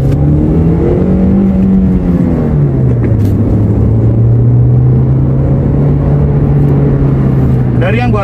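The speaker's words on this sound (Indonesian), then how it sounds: "Dari yang gua rasain tadi barusan untuk akselerasi mendadak, untuk akselerasi bawah" Toyota Corolla Altis engine under sudden acceleration, a steady droning rumble that rises and dips in pitch as the revs change, heard from inside the car, loud and continuous.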